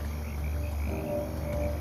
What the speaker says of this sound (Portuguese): Estão ouvindo as rãs?